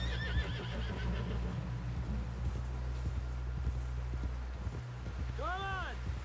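A horse in Red Dead Redemption 2 whinnies loudly near the end and its hooves clip-clop steadily beneath, with talk running over most of it.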